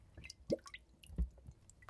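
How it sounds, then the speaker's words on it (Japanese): Bubbles flowing in water make a story sound effect of a few soft, wet drips and squishy pops, two of them more distinct, spaced irregularly against near silence. "つぶつぶ泡が流れていきます。"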